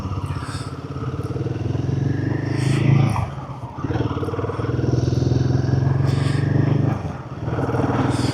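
A Royal Enfield 450 motorcycle engine drones steadily close by while weaving through traffic, dipping briefly as it shifts gears, with faint traffic noise around it.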